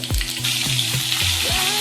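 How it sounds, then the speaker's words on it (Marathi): Cumin and mustard seeds sizzle in hot oil in a wok, giving a close, continuous crackling fry with a few light stirring scrapes and no speech. "कढईमध्ये तेल घेऊन जिरं मोहरी टाकून घेतली।"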